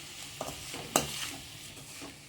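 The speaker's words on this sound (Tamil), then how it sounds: "போட்டதுக்கப்புறம் எல்லாம் ஒன்றா மிக்ஸ் பண்ணிவிடுங்க" A spoon stirs rice semolina upma in a pan, giving quiet soft scrapes and a faint low sizzle, with one sharper metallic clink near the middle and a few lighter knocks.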